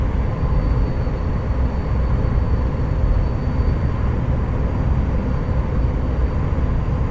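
A Peterbilt 389 flatbed truck in a video game drones with a deep, steady engine rumble, constant and close, with no voices over it.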